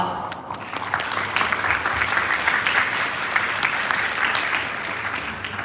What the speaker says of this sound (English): Let us all give them one more round of applause.